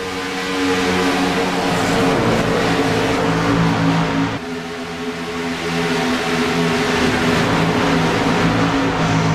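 Race cars in a racing video game at Texas Motor Speedway, a loud continuous roar of massed engines at the start of the race, steady throughout.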